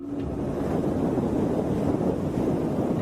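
Wind on a windy night in Spain roars as a steady, buffeting rush against the microphone, loud and continuous with no voices.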